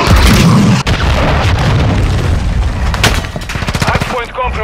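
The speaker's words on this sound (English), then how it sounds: "Enemy cruise missile approaching target." An enemy cruise missile strikes in a ranked Call of Duty Hardpoint match, a loud booming explosion followed by rumbling debris and a spray of rapid gunfire, with game announcer voice present.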